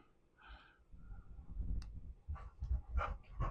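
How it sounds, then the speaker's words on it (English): Dogs bark and yip in the background, a scattered run of short, excited barks at moderate distance, growing busier toward the end. "There's my dogs behind me going nuts."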